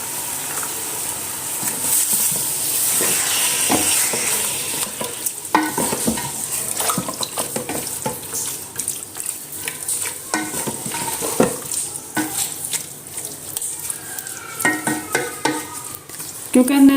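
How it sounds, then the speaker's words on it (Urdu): Marinated chicken frying in hot oil in a karahi for chicken tikka karahi, a loud close sizzle with frequent scraping and stirring of the spoon against the pan and occasional clinks. "چکن کو ایڈ کرنے کے بعد اب ہم اس کو فرائی کریں گے اچھے طریقے سے"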